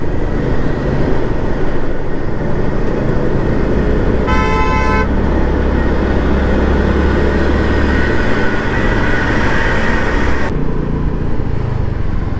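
Dense truck and trailer traffic on a highway, a loud continuous road roar with a car horn tooting in a short burst of beeps partway through, heard from close by.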